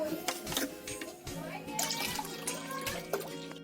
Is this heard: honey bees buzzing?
no